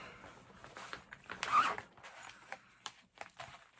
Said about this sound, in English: Zippers again.